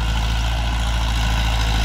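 A Ford 6610 4WD tractor's diesel engine runs steadily, a loud, continuous low rumble close by with no break and no talk.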